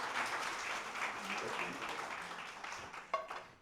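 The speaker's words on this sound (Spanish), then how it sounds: "puedes aplaudir al Señor" Congregation applauding in a church service, a steady wash of clapping from many hands at moderate distance that fades slightly toward the end, with a sharper burst near the close.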